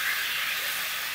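Meat sizzling as it is roasted in a pan, rustic roadside style, a steady bright hiss throughout, close and moderately loud, with no voices.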